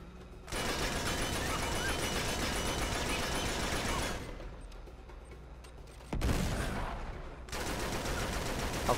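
Gunfire from an armored enemy's overpowered shotgun in an Uncharted 3 shipyard fight comes as dense, loud blasts in long bursts with short quieter gaps between them.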